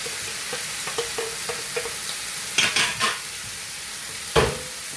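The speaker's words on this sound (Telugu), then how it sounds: "ఇందులో వేసి ఇవి బాగా ఫ్రై చేద్దామండి." Boiled vegetables fry in a pan with tomatoes for Schezwan noodles, a steady sizzle broken by repeated stirring scrapes and a few louder clanks of a utensil against the pan, close and without talk.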